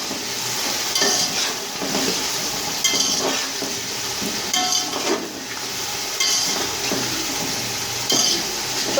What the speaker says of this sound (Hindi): अब हम चिकन को भूनेंगे।